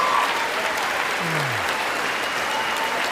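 A congressional audience at the State of the Union delivers loud, dense applause, a steady roar of many hands clapping near and continuous, with a brief murmur of voices underneath.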